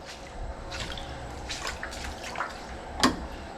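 Water drips and trickles in a flooded shop in Florida, a few faint splashes scattered across a quiet room, with one sharper drip near the end.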